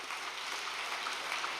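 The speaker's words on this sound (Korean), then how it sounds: "박수 한번 부탁드리겠습니다." Audience applause at an all-night church vigil, a faint, steady wash of many hands clapping at a distance without pause.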